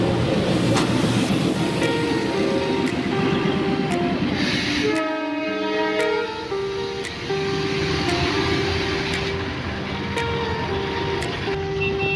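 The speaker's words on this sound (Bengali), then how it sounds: "বাসে করে যেতে যেতেই আমাদের চোখে পড়লো ওয়াইল্ড হেরিটেজ টয় ট্রেন" The Darjeeling Himalayan heritage toy train rumbles past nearby with rhythmic clacking of wheels, and a loud horn sounds midway before the rolling noise continues.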